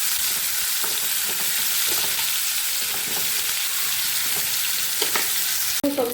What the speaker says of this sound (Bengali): সবজিগুলো দিয়ে ভালোভাবে 2 মিনিট একটু ভেজে নেব।